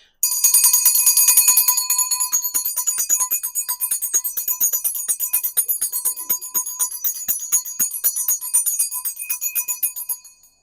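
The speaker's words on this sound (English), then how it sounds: "we're going to use my mom's bell to bring in all the blessings for you" A hand bell is shaken rapidly and loudly, bright ringing strikes repeating in a fast continuous stream for about ten seconds before stopping abruptly, with no talk.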